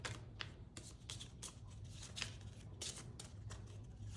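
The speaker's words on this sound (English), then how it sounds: "so we do then shuffle the progress deck" Progress deck cards from the Moon Colony Bloodbath board game being shuffled at the table, with quiet, rapid riffling flicks and soft taps close by.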